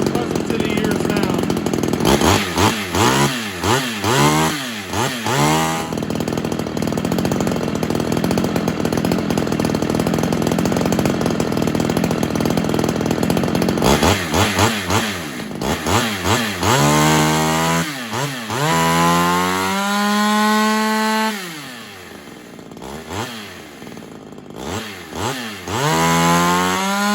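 A ported Homelite XL-76 chainsaw runs loud and close for the whole stretch, its engine revving up and down in repeated rising and falling sweeps with a steadier idle between bursts.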